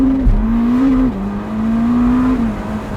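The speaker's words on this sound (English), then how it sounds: "You just go through the gears so quick in this car." A Ferrari SF90 pulls hard through its gears, a steady droning engine note that climbs in pitch and drops sharply at two quick upshifts, heard from inside the car without talk.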